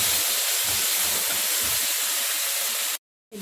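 Minced garlic sizzles with chicken in a pan over high heat for a Korean noodle dish. A loud, steady, close hiss runs continuously, then cuts off abruptly near the end.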